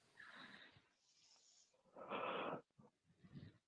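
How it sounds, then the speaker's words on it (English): A person yawns several times in a row, breathy drawn-out exhalations with one louder, fuller yawn in the middle, heard close and alone without speech. "Stop yawning"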